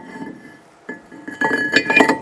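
A metal brake rotor is set onto the wheel hub of a 2005-10 Jeep Grand Cherokee, giving a few sharp metallic clinks and a ringing tone, close and alone.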